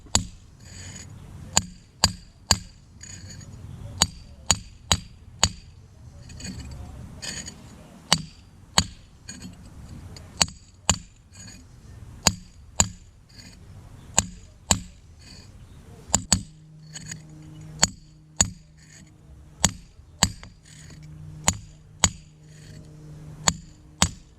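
Landscape edging stones are chipped with slow, separate hammer strikes, sharp close knocks spaced about a second apart over roughly twenty-four seconds, with a faint hum in the background.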